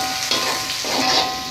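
Carrots being stir-fried for a simple cap cay, a loud, steady close-up sizzle with the rustle and scrape of stirring in the pan.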